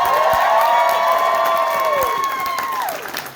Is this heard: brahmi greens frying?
no